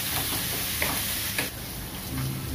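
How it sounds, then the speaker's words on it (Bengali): Sliced onions frying with salt in a pan on a home stove, giving a loud, steady sizzle throughout, broken by a couple of sharp scrapes as they are stirred. "একটু লবণ দিব, তাড়াতাড়ি ভাজা হয়ে যাবে, পেঁয়াজটা একটু ভালো মতো ভাজা হয়ে আসুক।"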